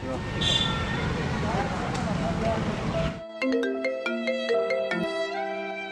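A phone ringtone plays a bright, repeating electronic melody, loud and close, after a stretch of noisy background chatter.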